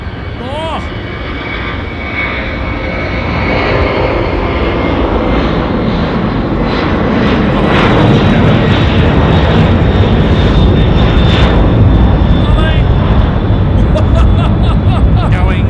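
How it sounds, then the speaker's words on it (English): A Boeing 767 jet roars down Runway 23 at Auckland Airport on its takeoff run, the loud broadband engine thunder building steadily and staying powerful to the end, with faint voices beneath it. "767 now, pumping it out. Runway 23 off to Brizzy."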